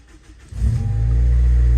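A Honda K20 Type R engine in a car under rebuild cranks and catches, then settles into a loud, steady, close idle with a deep rumble.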